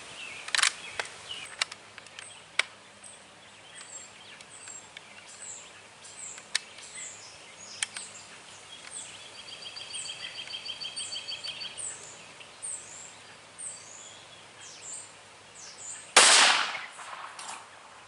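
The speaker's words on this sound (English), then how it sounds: "So now I'm going to close the bolt, push the round into the chamber, get on target, squeeze one off" A rifle fires once from a bipod, fitted with an ATN X-Sight scope. The single loud, close crack comes near the end after quiet outdoor ambience with scattered bird chirps and small clicks.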